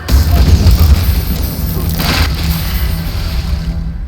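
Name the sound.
barrel explosion in video game Baldur's Gate 3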